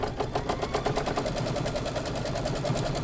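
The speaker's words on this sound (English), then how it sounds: "now I'm going to go ahead and stitch this down" A sewing machine stitches down quilt batting, its needle hammering in a fast, steady rhythm of close, even beats that run unbroken throughout without a pause.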